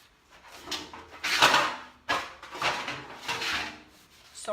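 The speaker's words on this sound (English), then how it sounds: "And I'm rubbing pretty hard right there because I want a lot of that off in there." A cloth rubs hard over finish on a wooden headboard in repeated slow back-and-forth strokes, a soft close scrubbing rasp with short pauses between passes.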